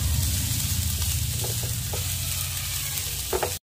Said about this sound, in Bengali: প্রথমে গ্রেটেড ক্যারেটগুলো হালকা একটুখানি ফ্রাই করে নেব